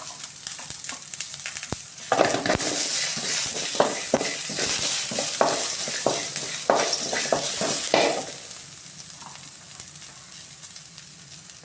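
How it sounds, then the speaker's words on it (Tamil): Shallots, small onions and garlic cloves sauté in a pan for soup, a steady loud sizzle broken by stirring scrapes and clatter. Heavy frying dominates the middle stretch, then settles to a softer hiss. "இந்த பதினஞ்சு வெங்காயத்தையும் சின்ன வெங்காயத்தையும் சேர்த்து நல்லா வதக்கி எடுக்கணும் பத்து பல் பூண்டும் சேர்த்துக்கணும்"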